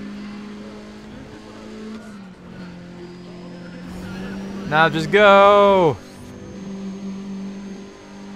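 Race car in Need for Speed: ProStreet at Chicago Airfield, a steady engine drone that surges into a loud, high revving burst near the end before dropping away, with a player's voice over it.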